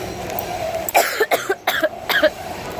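A person coughs in a quick cluster of short, sharp hacks, several in a row over a couple of seconds, close and clear with no talk over them.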